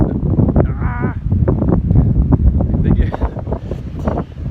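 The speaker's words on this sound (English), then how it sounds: "it's windy." Low, blustery rumble of wind buffeting a microphone, steady and close, with speech-like bursts mixed in throughout.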